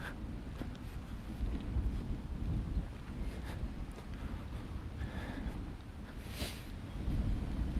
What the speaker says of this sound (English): It's a little bit windy here, so hopefully I'm sounding okay.